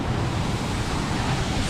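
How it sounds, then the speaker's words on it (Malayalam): A waterfall roars as a steady, close, continuous rush of falling water, with no talk over it. "മനോഹരമായിട്ടുള്ള ഒരു വെള്ളച്ചാട്ടമാണ്."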